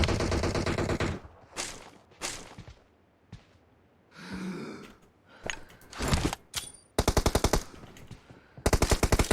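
Gunfire from the PUBG Mobile video game: loud, rapid automatic bursts, with scattered single shots and game effects early on, then two sharp rattling volleys near the end.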